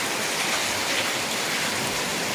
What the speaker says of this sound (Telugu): వా నిజంగా వర్షం బాగా పడుతుంది ఇక్కడ